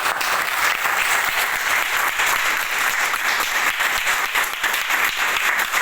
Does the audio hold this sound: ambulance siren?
no